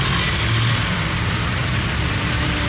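Heavy road traffic crawls along a flyover near the domestic airport: a dense, steady roar of cars, trucks and buses that stays loud and unbroken throughout.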